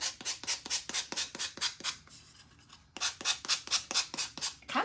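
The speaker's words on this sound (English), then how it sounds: "We'll use the sanding tool." Painted furniture being distressed with a sanding tool, a close series of rhythmic, evenly spaced scraping strokes that pause for about a second midway and then resume at the same pace.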